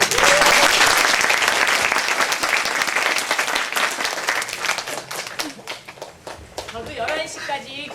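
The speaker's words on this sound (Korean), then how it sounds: "힘찬 감사의 박수 부탁드립니다." Loud, sustained applause from a school audience of high school students after a lecture, dense clapping that starts at full strength and gradually thins and fades toward the end.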